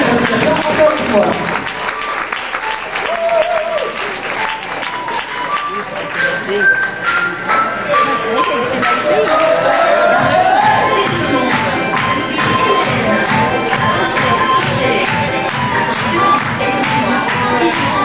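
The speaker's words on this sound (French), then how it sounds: "on les applaudit très fort" Audience at an amateur improv theatre league show in Saint-Hyacinthe claps loudly and continuously, with a voice speaking over the applause.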